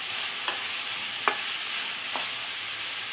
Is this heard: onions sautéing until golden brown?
yes